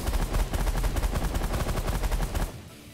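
Rapid automatic weapon fire rattles in a dense, loud burst against pirates in the space strategy game The Last Federation, cutting off abruptly near the end.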